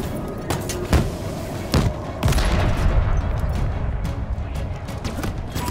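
Sharp shots crack out in the Halo Infinite campaign, several distinct blasts within a few seconds, then a sustained loud din of battle noise and rumbling fire.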